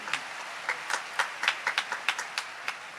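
Members of a church congregation clap during a sermon, a scattered, uneven patter of hand claps with no steady rhythm, moderately distant.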